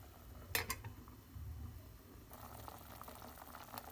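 Carrot murabba simmering in a covered pot on the stove, a soft low bubbling under faint kitchen hiss, with a couple of sharp metallic clinks near the start and a brighter sizzle later.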